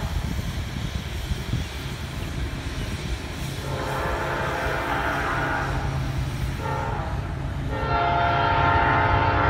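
A Norfolk Southern freight train, number 221 running from Charlotte, North Carolina to Atlanta, Georgia, rumbles steadily past at Cornelia, Georgia, while its horn sounds twice in long blasts, with the second blast louder and closer.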